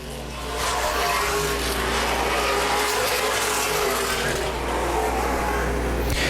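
Late model stock cars race around an oval speedway during a feature event, a loud, steady roar of several engines passing together and droning on continuously.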